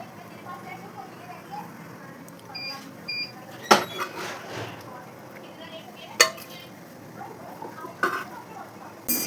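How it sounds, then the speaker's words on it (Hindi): Cooked dal in a pot has vegetables mixed through it, with a spoon clinking and scraping against the metal in scattered sharp knocks and softer stirring, while a voice talks in the background. "तो अब इसमें हम सब्जी मिक्स कर देंगे।"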